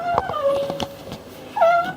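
A squeaky washing machine on display in an electrical shop gives a drawn-out, whining high squeal that holds steady for about a second, then rises again near the end, with faint background clatter.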